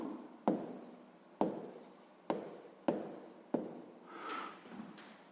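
Someone writes out a sixth-grade maths solution by hand, with five or six separate scratchy pen or chalk strokes, each a sharp start trailing off, faint and close in a quiet room.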